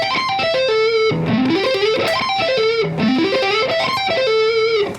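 A distorted electric guitar in EADGCF tuning plays quick, fluid pentatonic runs using sweep or economy picking that sweep up and down in repeating phrases, loud and alone.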